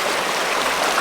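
A creek flows through a river canyon in the wilderness with a steady, close, hissing rush of moving water, continuous and alone with no talking.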